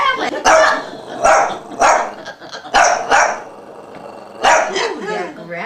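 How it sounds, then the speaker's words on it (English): Dog growling and barking in bursts nearby, with people talking and reacting around it in a home setting. "Ooh, they're growling."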